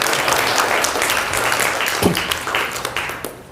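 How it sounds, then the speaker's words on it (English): A seminar audience bursts into loud, dense applause that stays full for a few seconds before tapering off. "give her a round of applause"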